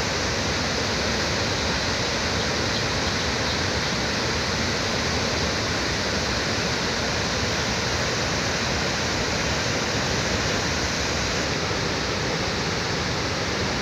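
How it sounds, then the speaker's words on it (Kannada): Chitrakuta waterfall roaring, a dense, unbroken rush of falling water that stays loud and even from start to finish, with no other sounds standing out. "ಈ ಸ್ಥಳದಲ್ಲಿ ಚಿತ್ರಕೂಟ ಜಲಪಾತವಾಗಿ ಧುಮ್ಮಿಕ್ತಾ ಇರತಕ್ಕಂಥ ಶಬ್ದ."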